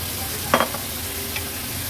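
Sprouted val beans tip into hot frying masala with a brief scraping stir near the start, followed by a faint second scrape over a steady low sizzle.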